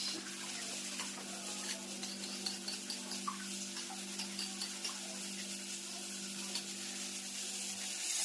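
Tempering sizzling steadily in a pan for a Gujarati tuvar dal and drumstick dish, a continuous close hiss with faint stirring clicks and a low steady hum underneath, no talk.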